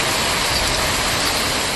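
Hail and rain driven by strong wind in Coimbatore, Tamil Nadu, a dense, loud, unbroken roar of pelting noise close by, with no voices.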